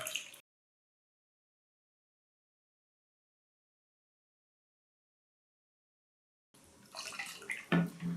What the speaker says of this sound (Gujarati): અને આ જ કપથી માપીને 4 કપ પાણી આમાં ઉમેરવાનું છે।